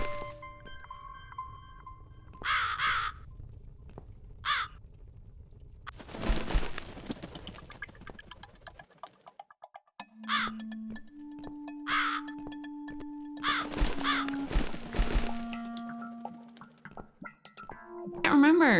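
Crow cawing in The Cat Lady video game, several harsh caws spread across the scene amid other game sounds, tones and thumps, with a voice talking at times.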